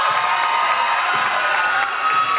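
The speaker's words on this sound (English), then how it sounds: "Let's put our hands together and clap it up." A basketball arena crowd at a men's college game against Francis Marion cheers and claps for Chloe, a loud, continuous roar of voices and applause with no break.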